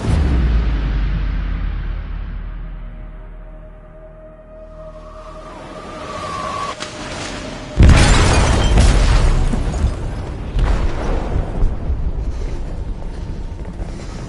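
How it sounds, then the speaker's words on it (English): An explosive detonates in a ship's hold in Detroit: Become Human, giving a sudden deep, heavy boom followed by rumbling, crackling debris and metallic groans that stay loud after a quieter rumbling build-up. "They detonated an explosive in the hold."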